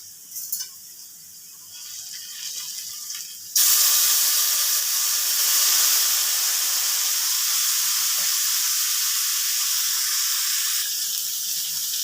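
Spinach tossed into a hot pan for palong paneer: a quiet start gives way to a sudden loud burst of sizzling, a steady bright hiss that holds and then eases slightly near the end.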